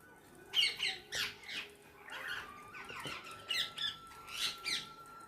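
Parrots feeding on rice scattered on a wall give shrill, repeated squawks in quick clusters, close and sharp, with short pauses between calls.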